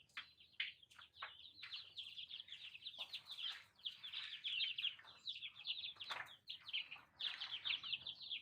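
Native hens clucking and chirping in a backyard flock, a busy, continuous stream of overlapping calls with short sharp squawks, fairly close and moderately loud.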